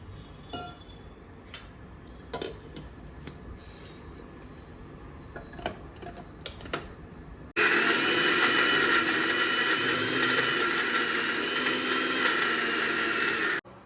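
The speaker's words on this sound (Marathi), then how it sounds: "आता ह्यात आपण थोडं पाणी घालून हे छान ग्राइंड करून घेऊयात" A few light clicks and taps, then a mixer grinder whirs loudly and steadily for about six seconds grinding spice paste with water for Goan fish curry, before cutting off abruptly.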